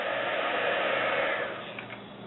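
A heat embossing tool blows a steady, loud hot-air whoosh as it is moved over a card to melt chunky embossing powder, the airflow easing slightly near the end, with no talking.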